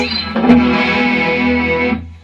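An electric guitar run through a chorus effect plays a short sustained chord that rings for about two seconds before cutting off, loud and close with no voices.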